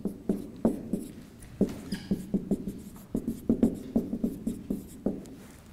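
Chalk or marker taps and scratches on a board during a physics lecture, a close irregular run of short strokes about two or three per second, alone without speech.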